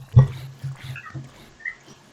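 A dog in a zombie survival video game gives a few short, low whimpering cries, the loudest one near the start and several softer ones after it, over a faint backdrop of game ambience.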